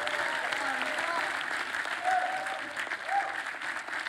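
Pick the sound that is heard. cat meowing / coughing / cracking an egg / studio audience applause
studio audience applause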